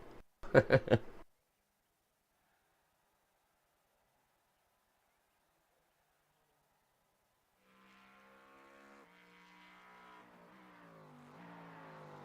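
An LMP race car engine runs onboard in a sim racing game at Watkins Glen. A brief voice opens, then a quiet pause, before a steady engine drone rises faintly in pitch and grows louder.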